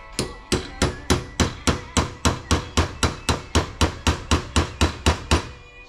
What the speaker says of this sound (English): Take this chisel here.